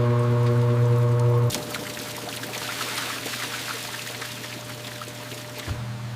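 Watermelon juice gushes in a steady, splashing stream through a juice factory's screening line after the pre-crusher stage, separated from larger solids; a loud droning machine hum stops abruptly as the rushing flow takes over.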